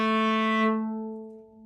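A single sustained cello note, bowed at a higher pitch, rings out clearly and alone before slowly fading, with no talking.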